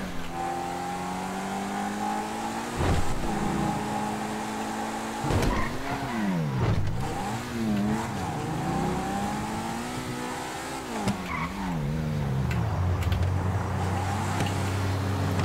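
A supercar's engine in Grand Theft Auto V revs and shifts through gears, pitch climbing and dropping, with brief tire squeals as it races along. The car sounds loud and steady throughout, and no one speaks.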